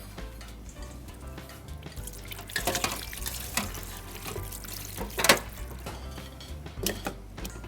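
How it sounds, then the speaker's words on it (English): Water poured into a pot of boiling meat while cooking ayamase, a Nigerian stew, giving a close, wet splashing and trickling run of several seconds with brief louder bursts. "I add a little water."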